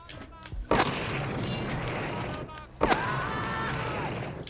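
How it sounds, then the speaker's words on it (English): A weapon in the video game Blood sets off a small explosion with shrapnel, producing two sharp booms each followed by a sustained crackling debris rumble, loud and close. "This one is explosion, a small explosion, plus shrapnel"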